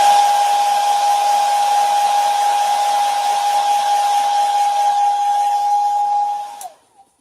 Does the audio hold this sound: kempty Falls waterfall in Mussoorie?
no